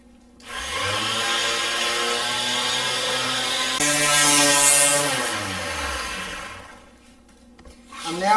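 A polisher grinds the surface of natural stone, a loud motor whine that spins up, holds with shifting pitch under grinding contact, then winds down near the end.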